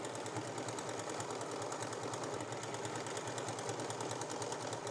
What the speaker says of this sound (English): I'm just going to serge all that.